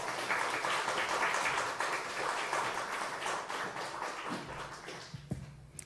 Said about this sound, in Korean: 목사님 나오실 때 큰 박수로 환영해 주시기 바랍니다.